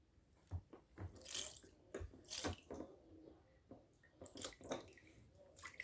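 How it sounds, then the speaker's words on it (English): Water is rinsed over a baby's hair during a bath, soft splashes and pours arriving in irregular bursts, close and quiet, with short gaps between them. "So now we're just going to wash her hair."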